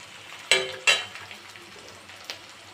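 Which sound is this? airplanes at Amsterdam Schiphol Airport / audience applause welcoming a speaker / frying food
frying food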